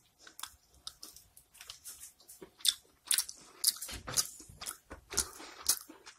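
Close, crunchy chewing and biting while eating a sausage and bean pasty from a bakery, irregular wet bites and crunches in a quiet room with no talking.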